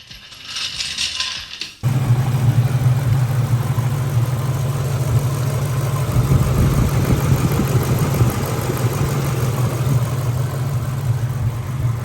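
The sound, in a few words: Ford Mustang engine running after electric fan fix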